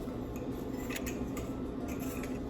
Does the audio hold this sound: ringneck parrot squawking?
no